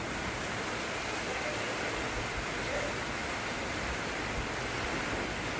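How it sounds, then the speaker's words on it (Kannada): Heavy rain pouring down in a sudden downpour, a loud, steady, dense hiss filling the whole stretch without pause or variation. "ಭಾಳ ಜೋರೈತಿ ಮಳೆ ಅಂದ್ರೂ"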